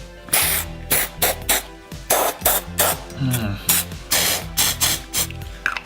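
An aerosol can of UV paint fires a rapid series of short, sharp hissing bursts, about a dozen close, loud spurts in an uneven rhythm with brief gaps between them.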